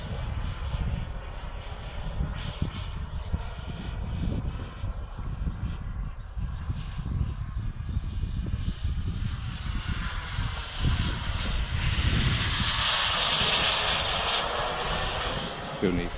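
A turbine-powered Avanti RC model jet flies overhead, its engine giving a continuous loud roar with a high turbine whine that swells and rises in pitch as it passes closer, then eases off.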